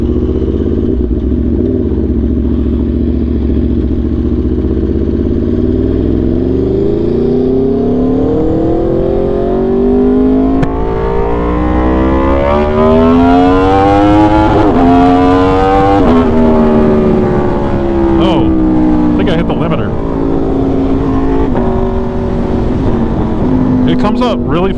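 An Aprilia motorcycle engine revs hard and climbs steadily in pitch over many seconds, its loud, continuous drone swelling as it winds up and then drops back briefly before rising again.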